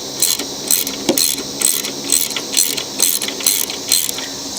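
A ratchet loosens the 3/4-inch carburetor bolts on a Craftsman lawn mower, giving a steady run of rapid clicking strokes, about ten back-and-forth bursts in a near, even rhythm with no talk.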